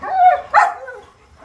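A Rottweiler in escort guard training gives two sharp, close barks in quick succession, the second slightly yelpy, followed by quiet.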